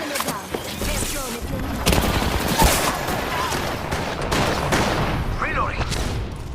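Continuous gunfire from the video game Apex Legends, rapid bursts and sharp shots crackling without letup at close range, with game voice lines and effects layered over the shooting.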